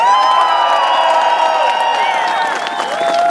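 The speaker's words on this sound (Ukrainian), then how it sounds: "Аплодисменти, ми молодці" A rally crowd at a Euromaidan protest in Ivano-Frankivsk applauds and cheers, with dense continuous clapping, whoops and shouts filling the clip at a steady loud level.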